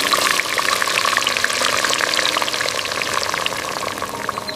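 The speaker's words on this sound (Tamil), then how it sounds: "இப்போ பொடியாக நறுக்கிய வாழைத்தண்டை சேர்க்கலாம்." Finely chopped banana stem frying in hot oil in a clay pot, a loud, continuous hissing sizzle with light crackle throughout.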